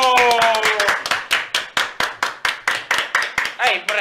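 On a Dominican radio quiz show, one person claps hands in a steady, close rhythm, about a dozen sharp claps over four seconds, with a brief voice at the start.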